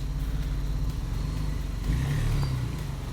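A 4x4's engine runs at a steady, throaty rumble during a traction board recovery, swelling briefly as the throttle is fed in, then holding an even drone with no voices over it.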